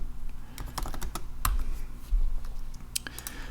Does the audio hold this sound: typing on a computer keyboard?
yes